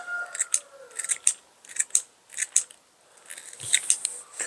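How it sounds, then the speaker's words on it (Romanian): Scissors snip soft willow twigs into small pieces, about a dozen crisp, close cuts arriving in irregular pairs and clusters with short pauses between them. "am o foarfecă și le voi tăia mărunt."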